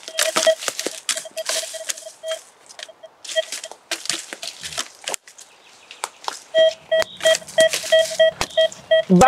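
A metal detector gives regular high-pitched electronic beeps in steady bursts, clear and close, with footsteps and rustling between them.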